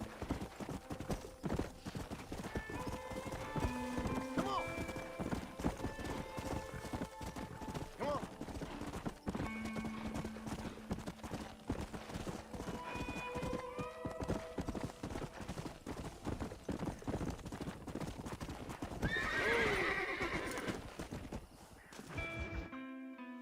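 Horse hooves clip-clop steadily through Red Dead Redemption gameplay, with a horse's whinny rising near the end, under game voices and background sounds.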